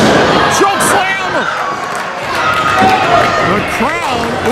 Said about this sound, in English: The crowd oohing and eyeing with every moment here